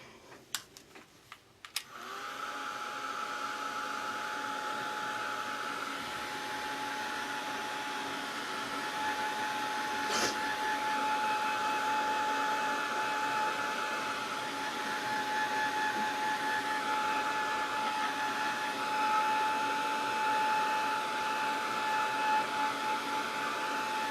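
A hair dryer blows steadily on wet acrylic paint after brush washing, a loud, even, close whirring drone switched on after a brief click and running unbroken for over twenty seconds.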